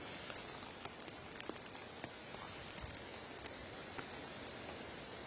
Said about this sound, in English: Rain definitely getting a bit heavier